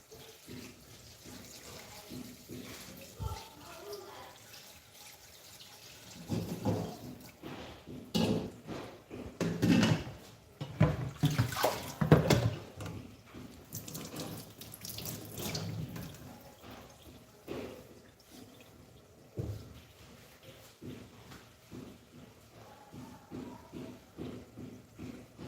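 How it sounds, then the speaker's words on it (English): Water poured into a cooking pot in a home kitchen, irregular splashing and running bursts interspersed with clunks of handling, moderately close and fairly quiet, with brief talk. "Then I add some water."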